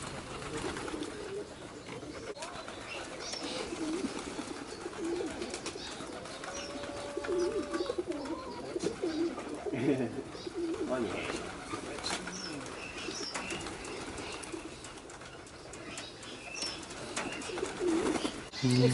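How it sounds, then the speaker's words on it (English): Doves in a garden aviary at Avi-Fauna and Flora Gardens in Margate coo softly and repeatedly at moderate distance, with occasional chirps and brief wing flutters, while people talk nearby. "Oh my gosh, all the doves over there."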